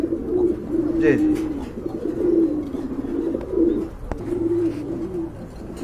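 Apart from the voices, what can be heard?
pigeons cooing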